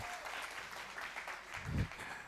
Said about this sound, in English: All right, clap hands again.